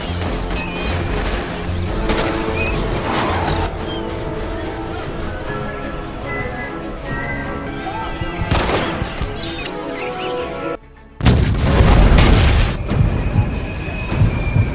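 Several heavy booms and crashes burst out between stretches of rumbling, scurrying noise of rats, the loudest blast near the end, loud and close. An explosion scene from the film Wanted (2008).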